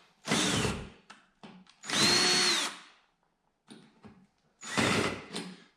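Power drill boring into the body of a camper van while fitting an outside 12-volt outlet, heard in three loud bursts of about a second each, separated by quiet pauses and small clicks.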